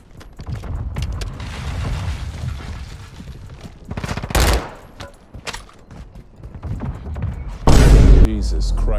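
Rapid automatic fire from a Kastov 762 rifle in Warzone 2, loud bursts of shots and booming impacts in quick clusters, with a voice talking over part of it.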